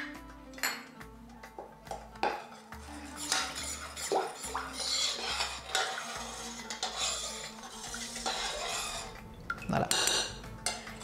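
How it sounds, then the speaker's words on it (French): Sugar and cornstarch stirred together cold in a pan for a hazelnut assida custard, with a spoon scraping and clinking against the metal in steady, close strokes and occasional louder knocks. "3 cuillères à soupe de sucre, 2 cuillères à soupe de maïzena et je mélange le tout à froid"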